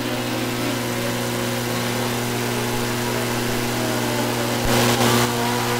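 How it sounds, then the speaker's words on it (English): Fontana-powered spike chassis midget race cars circling a speedway oval, a steady droning engine hum at mid distance with a brief louder swell near the end. "purple and white Fontana-powered spike chassis midget up to the high side through three and four, the bottom side through one and two"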